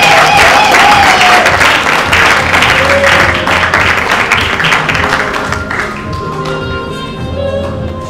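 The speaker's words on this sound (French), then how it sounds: "sur vos applaudissements s'il vous plaît" An audience at a certificate award ceremony in a hotel applauds loudly. The dense clapping thins toward the end as a few distinct claps remain and faint background music comes through.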